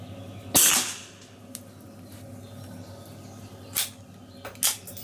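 A suppressed Welrod .32 ACP pistol fires three shots at a range with worn-out wipes, each a short muffled pop; the first is loudest and the last two come close together, over a steady background hum.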